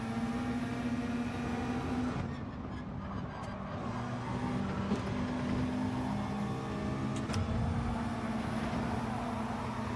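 A McLaren race car engine in Gran Turismo 7 drones steadily with a humming, slightly shifting tone, continuous and close, with faint tyre and track noise mixed in.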